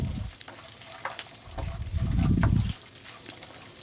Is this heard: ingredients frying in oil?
yes